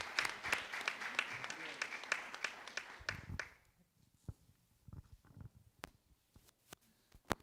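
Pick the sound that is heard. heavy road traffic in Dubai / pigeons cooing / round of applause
round of applause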